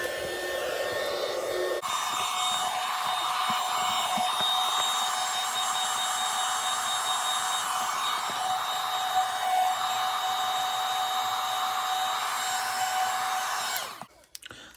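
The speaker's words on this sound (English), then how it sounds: "I'm using my embossing gun from Amazon." An embossing heat gun warming vinyl runs as a steady, close blowing whir for nearly the whole stretch after a brief quiet start, then cuts off abruptly near the end.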